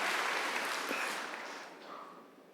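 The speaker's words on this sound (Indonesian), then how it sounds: "Tepuk tangan bagi Allah kita," A church congregation at a worship service applauds in a short, dense wash of clapping that starts full and fades over a few seconds, fairly quiet and slightly distant.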